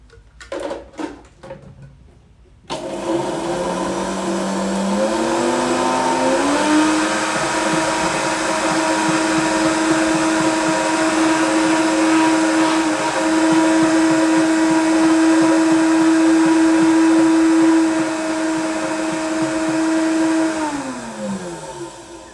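A blender grinds oats into oat flour, starting after a few seconds of quiet handling noise with a loud motor whine that rises in pitch, holds steady for about fifteen seconds, then winds down at the end.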